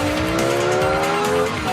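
A Lexus LFA's 552-horsepower V10 engine wails loudly and close, its high-pitched note climbing steadily as it revs, with no voices.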